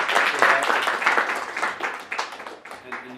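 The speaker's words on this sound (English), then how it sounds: "So, how about a round of applause for RIC, Andrea, Shu, and the whole team." Applause from an audience at a human trafficking panel at the Utah State Capitol, honoring an anti-trafficking organization, a short burst of clapping that thins out, with voices underneath.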